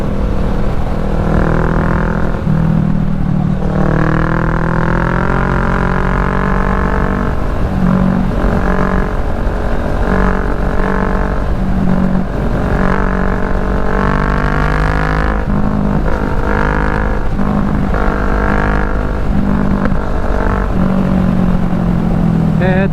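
A motorcycle rides through traffic on the road from Manila to Batangas, its engine droning loud and steady throughout with rising and falling rev tones and constant wind noise.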